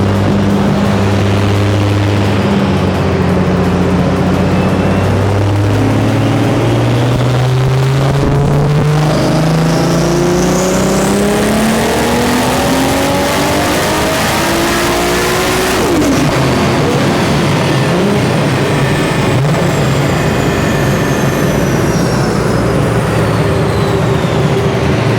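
A built 2JZ Toyota Supra engine on a dyno, loud and close, revving in a long rising pull, then cutting sharply before settling back to a lower roar.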